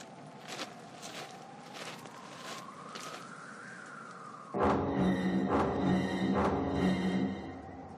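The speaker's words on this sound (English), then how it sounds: "I hear footsteps." Footsteps walk at a steady pace, each step a distinct soft thud, with a faint tone underneath, then continue over a louder, busier background in the second half.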